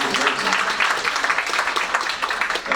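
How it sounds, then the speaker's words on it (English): Steady applause from an office audience for a colleague, a dense wash of many hands clapping at even loudness throughout with no pauses. "you give her a round of applause"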